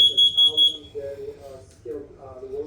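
Smoke detector under test gives three loud, shrill beeps at the start, then falls silent while people talk nearby.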